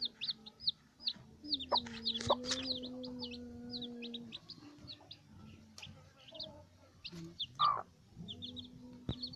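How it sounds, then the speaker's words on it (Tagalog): Hens and newly hatched chicks on a Filipino home yard, with soft clucks and a run of high peeping chirps from the chicks, close by and alone with no talk. "Tingnan mo yung isang chicken namin. Yung chick namin, oh."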